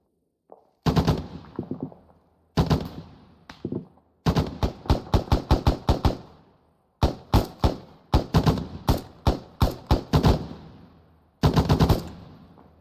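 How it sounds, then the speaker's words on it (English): Rapid bursts of automatic gunfire from a squad's own weapons during training, loud and close, coming in repeated volleys with short pauses between them. "Oh, that's you firing."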